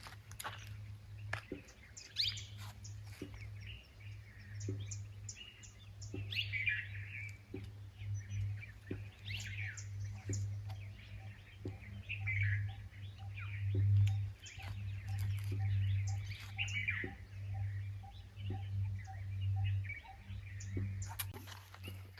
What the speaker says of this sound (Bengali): আর পাখির আওয়াজগুলো শুনছি